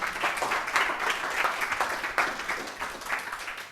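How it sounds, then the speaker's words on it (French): Church congregation applauding and cheering in praise during a French-language worship service, a steady dense wash of many hands clapping that swells and holds for several seconds with no talk over it. "Est-ce qu'on peut acclamer pour le Seigneur Jésus?"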